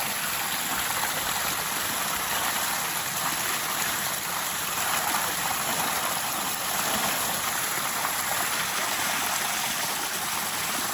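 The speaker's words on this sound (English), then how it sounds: "So that concrete bowl will be filling up and the little water park ride will be flowing nicely." Storm water rushes steadily into the concrete bowl of a homemade garden pond, a continuous broadband gush with no pauses and no voices, close and fairly loud.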